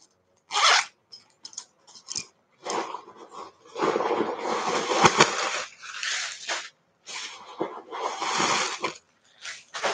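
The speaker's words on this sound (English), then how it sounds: "it's got the large zipper pull" Close rasping pulls of a handbag's large zipper in several separate strokes, some short and some drawn out, with brief silences between.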